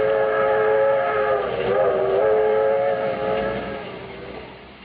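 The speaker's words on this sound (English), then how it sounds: "This is the story of an overnight train trip on the 20th Century Limited from Chicago to New York." A steady rumble of the 20th Century Limited rolling from Chicago to New York, played as a radio drama effect. Layered whistle-like tones swell and fade over continuous loud rail noise, with no voices.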